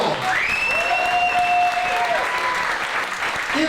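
Audience applause at a talk, a dense, loud, continuous clatter of many hands lasting a few seconds, with a thin sustained tone gliding above it.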